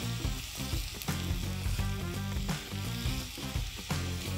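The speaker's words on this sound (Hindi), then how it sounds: "मैं इसको कुक डाउन कर दूंगी, चिकन इसी में पक जाएगा।" Chicken cooks in a pan for quiche filling with a loud, continuous close sizzle and crackle, overlaid with periodic scraping and stirring knocks against the pan.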